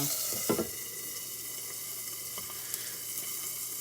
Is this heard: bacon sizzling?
yes